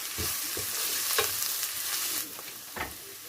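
Masala with black pepper powder frying briefly in a pan for beef curry, a steady soft sizzle broken by a few scraping stirs, close and without talk.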